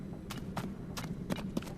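Horse hooves clip-clopping in the Zelda: Tears of the Kingdom video game, a quick run of soft, evenly spaced hoofbeats over a low ambient bed of game music.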